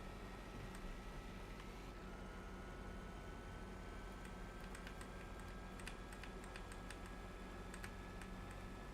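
Computer keyboard keys tap in a racing sim game, GTC Legends, used in place of a steering wheel to drive; faint scattered clicks come in small irregular clusters over a steady low hum, with no talking.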